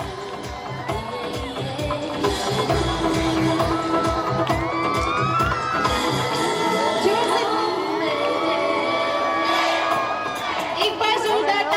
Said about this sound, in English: A big round of applause for both teachers.